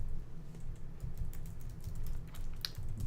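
Rapid, close computer keyboard typing clatters steadily with irregular key clicks, someone entering C# code into an editor.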